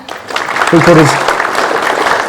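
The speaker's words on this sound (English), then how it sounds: "a big round of applause for Peter" Audience applause for author Peter Fyans at a VJ Day 75th anniversary talk, a brief round of clapping with a voice speaking over it.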